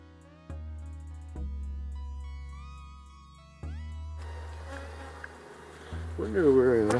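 Honey bees buzz as they are shaken off hive frames, first as faint steady drones with distinct tonal hums, then a louder dense swarm buzz swelling near the end, close by with no talking.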